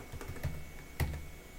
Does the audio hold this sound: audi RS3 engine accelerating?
no